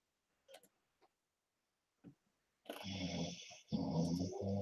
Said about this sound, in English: And my dog is snoring super loud.